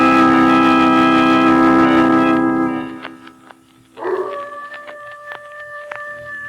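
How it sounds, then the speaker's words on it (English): A coyote howls off in the hills at night, a long drawn-out wail that fades, then a second rising howl and some yipping. The sound is clear and carries, heard alone without talk. "Not a sound anywhere, Lamont, except that coyote off in the hills"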